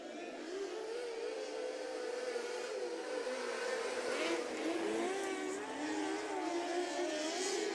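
HART NW micro race cars drone around the dirt oval at Rush County Fairgrounds, a distant whining engine hum rising and falling as the pack runs single file, steady and fairly faint.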